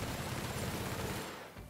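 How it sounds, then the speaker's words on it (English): Dense, rapid gunfire from The Outer Worlds video game, a continuous rattling burst of shots that fills the space loudly and then cuts off near the end. "Oh, I didn't realize you were there shooting me as well."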